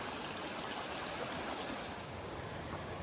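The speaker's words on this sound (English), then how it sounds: "Oh, so we were on the small river." A small river flows beside a hiking trail on the Colorado Trail near Breckenridge, a soft steady babbling wash heard alone at low level.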